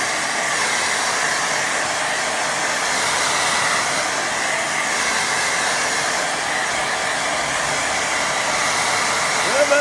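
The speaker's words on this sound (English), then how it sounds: "It might get boring listening to me drying" A hair dryer blows steadily and loudly over a watercolour painting, a continuous close-up rushing hiss that holds unchanged for the whole stretch with no talking.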